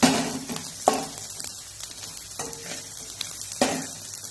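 Curry leaves and a pinch of hing sizzling in hot oil in a pan, with a few sharp clinks of the spoon stirring against the metal over a continuous frying hiss.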